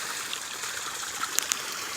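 Water spills steadily down a small pond waterfall in a city food forest, a soft continuous splashing trickle heard close and fairly quiet, with a couple of faint bird chirps.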